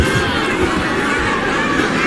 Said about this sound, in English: The crowd is standing up, trying to encourage El Azteca